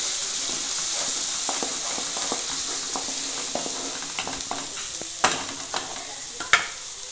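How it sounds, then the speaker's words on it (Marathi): Tomato paste is stirred into a coconut masala frying in oil for a small-fish curry, giving a steady close sizzle broken by occasional spoon scrapes and clicks against the pan, with no voices. "टोमॅटो पेस्ट टाकून घ्यायची। टोमॅटो पेस्ट चांगली मिक्स करून घ्यायची।"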